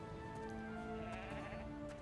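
A sheep bleats in the Anno 1800 video game, a clear continuous bleat over soft ambient game sound with a faint second call near the end.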